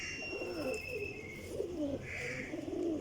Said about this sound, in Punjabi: ਤਿਆਰ ਕਬੂਤਰ ਜਨਾਬ।